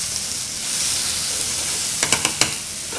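Wood pigeon sizzles in a very hot pan, a constant frying hiss followed near the end by a few sharp spits and crackles, with no one talking.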